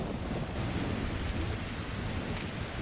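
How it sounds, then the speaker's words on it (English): Heavy rain pours steadily in a Metro Exodus thunderstorm, a dense, loud wash with low rumbling thunder beneath, constant throughout with no talking. "look at that fucking storm"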